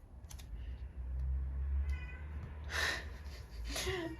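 A cat meows a couple of times indoors, faint and somewhat distant, over a low background hum and light tapping.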